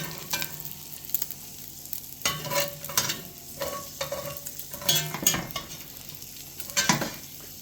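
Rendered fat sizzling in a pan while chili is being cooked, a constant crackling hiss broken by clattering stirs and scrapes of a slotted spoon against the pan.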